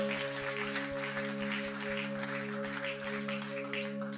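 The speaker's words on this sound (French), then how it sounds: "Acclame pour Jésus." A church congregation at a Sunday service claps steadily together through the whole stretch, a broad wash of applause sitting over a sustained musical drone and the hum of a room sound system.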